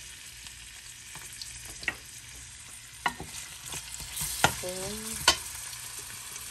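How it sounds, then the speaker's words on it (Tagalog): Garlic and onion sauté in a hot pan with a steady sizzle and scattered spatula scrapes and taps, up close; a brief spoken word is heard. "Igisa muna natin yung bawang at saka sibuyas."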